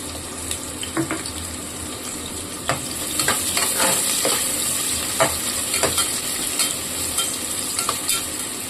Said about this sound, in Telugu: ఆయిల్ వేడెక్కిన తర్వాత ఉల్లిపాయలు కట్ చేసిన ఉల్లిపాయలు